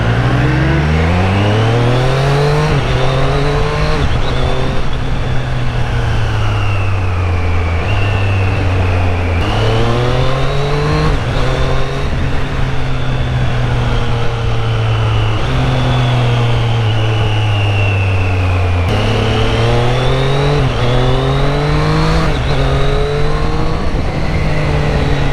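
Triumph Street Triple 765 RS naked motorcycle exhaust while riding, a continuous engine drone that rises and falls through repeated gear shifts and revs, loud and close throughout.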